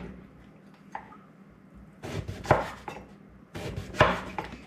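Unpeeled horseradish root is chopped by knife on a board in two close, rough bursts of rapid cuts with a thudding, crunchy edge. A faint tap comes earlier, before the chopping starts.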